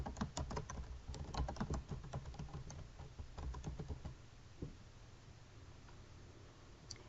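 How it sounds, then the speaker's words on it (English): Quick close keystrokes on a computer keyboard, a rapid run of clicks for about four seconds, then quiet with one last tap. "I'm going to type Transfer for Banner Conference."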